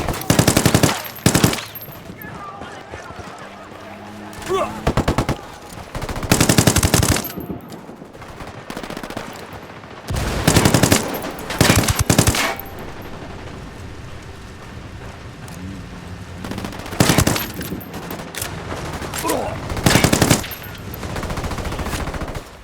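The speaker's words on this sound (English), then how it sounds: "Opening fire." Machine gun fire in the video game Ghost Recon Wildlands, loud repeated bursts of rapid shots separated by short pauses, close and harsh, with faint game sounds and occasional voices underneath.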